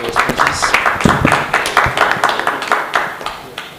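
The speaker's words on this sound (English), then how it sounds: "Please a round of applause for the wonderful responses." Round of applause from an audience at an industry stakeholder event, close, uneven individual claps from a modest crowd, steady for several seconds then thinning out.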